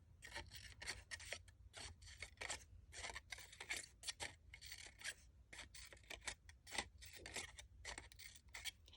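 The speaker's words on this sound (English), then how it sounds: "We're going to cut in between each petal again." Scissors snip in quick repeated bursts through paper, cutting between the petals of a large paper flower; crisp, close and quiet, with no one talking.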